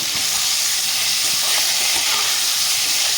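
Prawns fry lightly in hot oil, a dense, even hiss that holds steady throughout with no talking.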